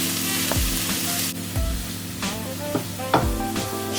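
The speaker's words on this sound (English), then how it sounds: "So I'm gonna saute this onion till it turns goldenish brown." Chopped onion sautéing in a pan: a continuous sizzle with several soft stirring scrapes and thumps spaced through it, close and moderately loud.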